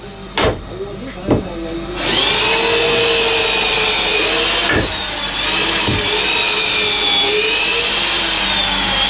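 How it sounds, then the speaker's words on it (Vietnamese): A power drill bores into wood to fasten a standing cabin post on a boat under repair, a loud sustained whine after brief knocks, with a few sharp taps and a short pause midway. "Đang khoan bắt trụ đứng nha anh em."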